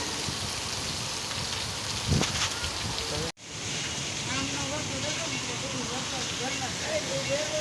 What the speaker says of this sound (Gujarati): તો મિત્રો ફૂલ આવો વરસાદ આવી ગયો છે